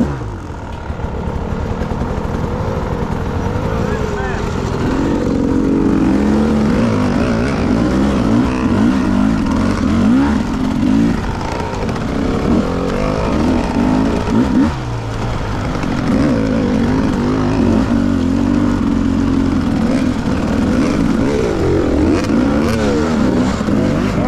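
Motorcycle engine running loud and close for the whole stretch, revving up and down in repeated surges while riding, with steady road and wind rumble underneath and no talk.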